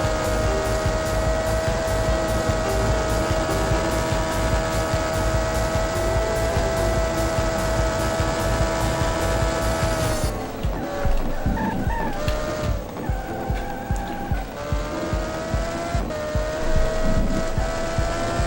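Race car engine from Test Drive: Le Mans on the Dreamcast, a loud, steady high-pitched drone with strong harmonics that turns choppier and more uneven partway through; no distinct tire squeal stands out.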